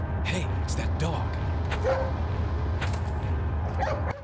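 A dog in the video game Resident Evil 4 gives a few short barks and yips over a low, rumbling game soundscape, with talking running underneath.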